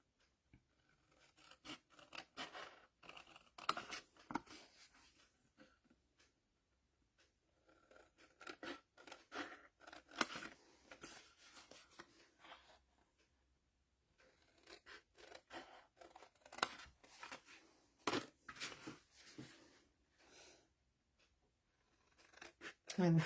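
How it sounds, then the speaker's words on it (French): Paper being cut with scissors while sorting large desk-organiser compartments, a run of snipping and rustling bursts in irregular clusters with short pauses, fairly close and moderately quiet. "pendant que je découpe ça"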